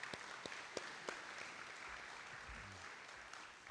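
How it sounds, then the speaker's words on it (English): Applause rings out for senior athletes at a high school athletic banquet, a steady crowd wash with a few sharp claps standing out early and fading slightly toward the end. "Can we give them one last round of applause as a group?"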